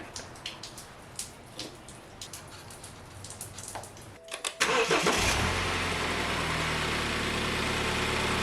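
A 2013 BMW F30 328i xDrive in a shop has its engine cranked and started after an oil change, catching with a burst and then settling into a loud, steady idle after several seconds of quiet clinks and handling noises.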